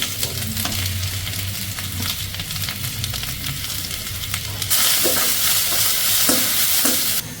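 Sliced onions fry in hot oil in a pan while a utensil stirs them, giving a continuous close sizzle with scraping strokes. The hiss grows brighter and louder partway through.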